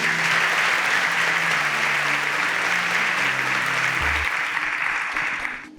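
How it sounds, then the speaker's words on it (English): A studio audience at a Nigerian student quiz competition applauds a departing contestant, dense sustained clapping filling nearly six seconds before tapering off at the end. "Please, a round of applause for Kristen."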